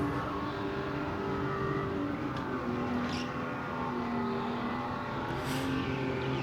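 A race car engine in a racing video game holds a steady droning rev under throttle, loud and continuous, with faint higher whines drifting over it and no talk.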